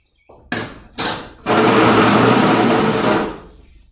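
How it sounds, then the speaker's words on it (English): A Voyager belt grinder fitted with a large expander contact wheel grinds bevels on a stock-removal kitchen knife, opening with a couple of brief touches of the blade before a steady, loud, close grind lasting a couple of seconds and then spinning down. "we have the big expander contact wheel back on the Voyager, so I'm going to use that today to try and steepen my bevels up a little bit on the kitchen knives"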